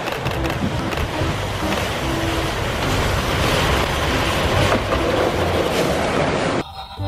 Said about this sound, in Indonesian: Ini kereta Thomas.